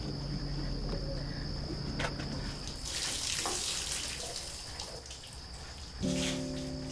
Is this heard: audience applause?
no